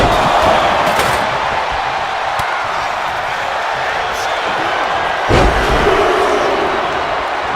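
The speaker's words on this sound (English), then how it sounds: "The WWE Universe is showing their appreciation for the action they're seeing." A WWE arena crowd roars continuously during a wrestling match, a dense loud wash of cheering and shouting with a few thuds and slams from the ring, under a commentator's voice.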